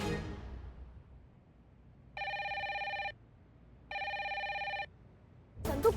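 A telephone rings in two separate bursts, each about a second long with a pause between, left unanswered in an otherwise quiet room, with a brief noise at the very end.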